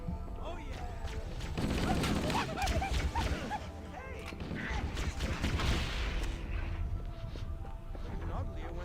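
Bursts of rapid gunfire and impacts from the shooter game Apex Legends, dense and loud in clustered volleys over a busy mix, with a voice talking over the action.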